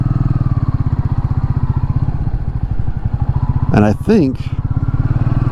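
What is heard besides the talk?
Royal Enfield Meteor 350 motorcycle engine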